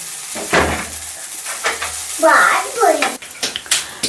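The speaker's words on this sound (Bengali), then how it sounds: "একটু হালকা নাড়িয়ে নিলে আমার পাস্তাটা আজকে রেডি হয়ে যাবে" Pasta is stirred in a cooking pan, with soft scraping and a short sizzling burst amid brief clinks, while people talk nearby.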